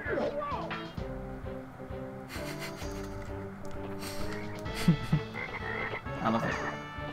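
A frog enemy croaks in Crash Bandicoot: Warped on the PS1, with repeated low ribbed croaks and a rasping scrape layered with game music and effects.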